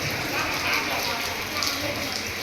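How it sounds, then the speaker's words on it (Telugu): Heavy rain pours steadily at Srirangam's Ranganatha temple, a dense even hiss of drops hitting surfaces with no pauses across the short stretch. "కానీ వాన అయితే ఎట్లా కొడుతుంది చూడవచ్చు ఫ్రెండ్స్"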